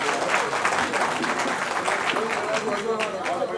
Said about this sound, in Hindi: एक बार जोरदार ताली बजाकर मुझे हौसला दें।